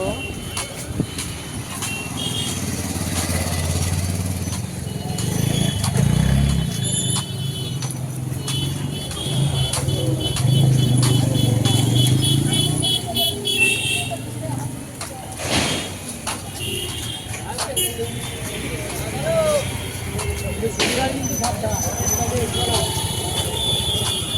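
A busy street with passing cars and motorcycles, a steady rumble of engines rising and falling as vehicles go by, with occasional sharp bursts that may be horns and a person talking over the traffic at times.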